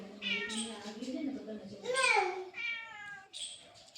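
A house cat gives several drawn-out meows and wails, close and fairly loud, mixed with a voice nearby in a home.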